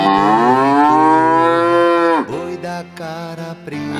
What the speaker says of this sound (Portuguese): Pode ser que seja o boi da cara preta.